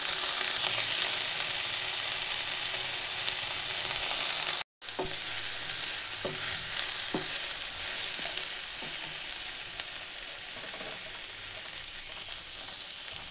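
Tomato frying in a pan for a broccoli dish gives a bright, steady sizzle. Occasional soft stirring clicks come through, with a brief cut partway through.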